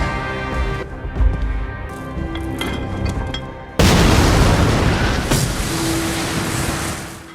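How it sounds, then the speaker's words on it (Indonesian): A sudden loud grenade blast cuts in midway, followed by a sustained roaring rumble and debris noise after quieter ambient sounds. "granat meledak menghancurkan tubuh dua orang itu"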